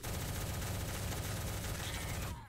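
Rapid, continuous gunfire from the egg-themed first-person shooter game Shell Shockers, a dense unbroken burst that stays loud throughout and then cuts off abruptly near the end.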